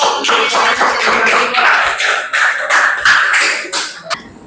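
Students in a vocational high school classroom clap their hands together, a dense, steady round of close applause lasting about four seconds before it tapers off abruptly.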